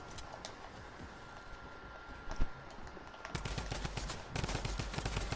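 Rapid automatic fire from a drum gun in Fortnite, a quieter stutter of shots at first, then heavier, denser bursts growing louder toward the end.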